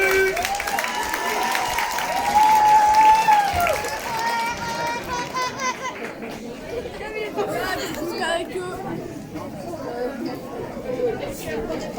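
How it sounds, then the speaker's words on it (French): An audience applauds a slam poet at the Festival J'Ose 2022 at the MJC de Quintin, with steady clapping mixed into loud crowd chatter and voices across the whole stretch. "Vous pouvez applaudir"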